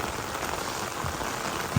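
Rain falls steadily on a roadside in Palali, Vayavilan, a constant dense hiss of drops on surfaces with one brief low thud near the end.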